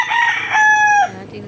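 A rooster crows once in a garden, a loud, close, bright call with a rising start and a held note that breaks off abruptly, followed by quiet.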